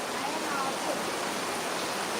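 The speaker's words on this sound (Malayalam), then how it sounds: "നല്ല അടിപൊളി മഴ ഒരു രക്ഷയില്ല അതാ ലൈവായിട്ട് കാണാൻ പറ്റും" Heavy monsoon rain pours down in a dense, steady hiss that holds at an even loudness from start to finish, with no pauses or separate drops standing out.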